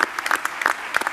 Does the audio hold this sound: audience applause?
yes